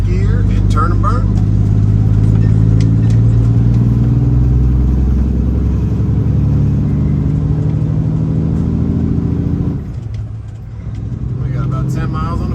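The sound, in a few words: semi truck engine revving after downshifting to 9th gear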